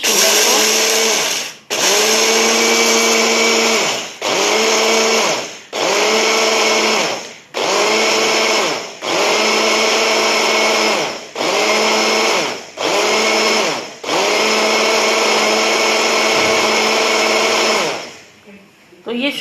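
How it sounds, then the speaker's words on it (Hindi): A kitchen mixer grinder grinds sugar into powder for moong dal laddu, its loud motor whine running in several bursts with short pauses between pulses, then stopping near the end. "इस शुगर को हम ग्राइंड कर लेते हैं"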